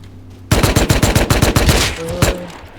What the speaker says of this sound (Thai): พี่ยิงแล้วพี่ยิงแล้ว